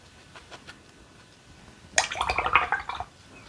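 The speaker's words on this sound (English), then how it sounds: "Rinse and wipe my brush" A watercolor brush is swished and rinsed in a water cup, giving a short close burst of splashing and sloshing after a quiet stretch with faint taps.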